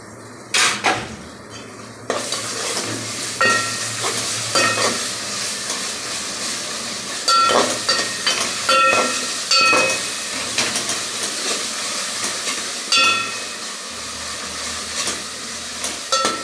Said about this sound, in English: And now I will add my remaining ginger garlic paste in it